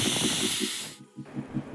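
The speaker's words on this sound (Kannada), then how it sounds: "1-2-3 ವಿಷಲ್ ಹಾಕಿಸ್ಕೋಬೇಕು" A kitchen pressure cooker cooking rice bath lets off a loud steam hiss for about a second, then stops abruptly, and a faint pulsing rattle is left behind.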